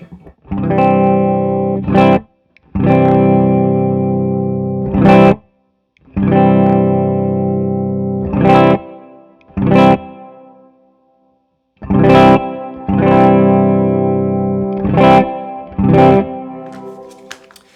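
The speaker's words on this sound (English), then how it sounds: "right now we are actually on the plate reverb and the vibrato setting" Electric guitar played through a Keeley Zoma pedal set to plate reverb and vibrato: loud, sustained wavering chords in several phrases separated by brief silences, with bright string attacks and no voices.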